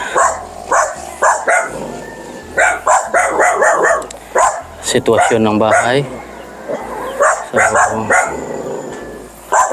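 A dog barks repeatedly at visitors arriving at a house, sharp close barks in irregular bursts with some whimpering, mixed with people talking nearby throughout.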